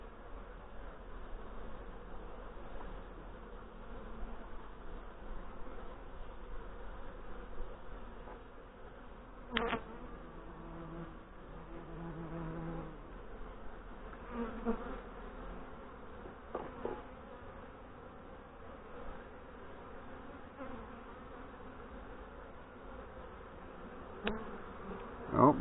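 Honey bees from a hive under autumn inspection, with a continuous soft buzz of many bees around the open box, punctuated by a few brief knocks and handling sounds.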